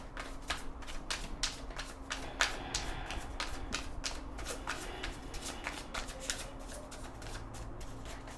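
Tarot cards being shuffled by hand, a rapid series of crisp riffling and slapping bursts repeating steadily and close up, with faint background hum.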